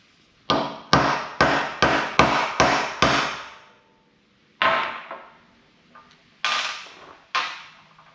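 A hammer drives a bushing into an antique tractor part: six quick, sharp metallic blows in steady rhythm, a pause, then a few more spaced strikes, close and loud.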